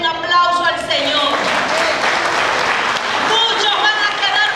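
A church congregation applauds during a Spanish-language sermon, with steady, dense clapping that fills the whole stretch, loud and close, while a voice carries on over it.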